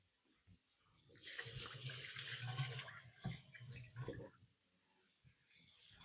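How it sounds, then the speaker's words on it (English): Water runs from a sink tap as someone washes their hands in a home kitchen, a gushing splash that starts after a moment and continues, then fades out. A voice is faintly audible at times. "I'm going to go wash my hands real quick"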